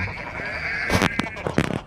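A goat from the WorldBox video game bleats loudly in a short, wavering cry, followed by a few sharp clicks and game effects.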